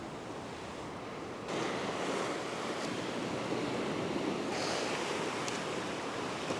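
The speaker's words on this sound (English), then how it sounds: "Low tide, this is a little cove, a little beach there." Waves wash into a small beach cove at low tide in Cornwall, a steady soft surf hiss that swells louder partway through, with wind buffeting the microphone and no voices.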